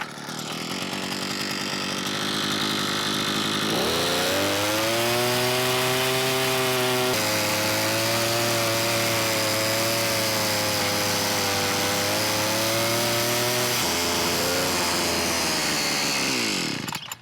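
A Harbor Freight Predator gas power head auger idles, then revs up into a loud, sustained two-stroke engine whine while digging a hole, holding strong before dropping back to idle and cutting off.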